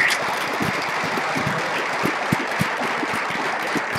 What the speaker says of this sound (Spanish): Bueno, un fuerte aplauso.